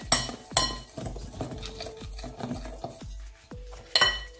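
Flour and salt batter being mixed in a bowl with a utensil, for fish and chips, giving repeated sharp scraping clinks against the bowl's side in an uneven rhythm, close and fairly loud, no talking.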